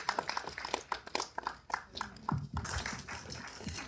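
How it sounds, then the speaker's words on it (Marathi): An audience at a film trailer launch claps, heard as scattered, fairly faint handclaps at an uneven rhythm that thicken toward the end. "एकदा जोरदार टाळ्या होऊन जाऊ दे"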